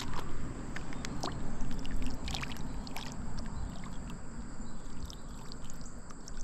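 An old embossed glass medicine bottle rinsed with water outdoors, giving steady splashing and sloshing with scattered small glassy clicks and knocks throughout.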